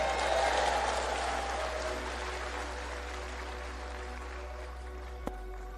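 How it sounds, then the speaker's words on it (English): An audience at a sermon by Dr. Myles Munroe applauds in a broad wash of clapping that starts strong and gradually fades to a lower, sustained patter with a low hum beneath. "Clap your hands anyhow."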